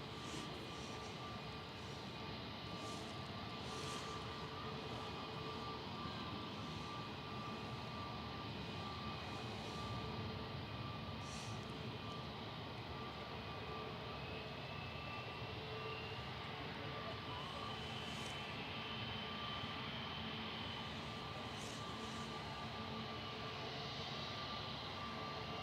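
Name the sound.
EasyJet jet landing at Manchester Airport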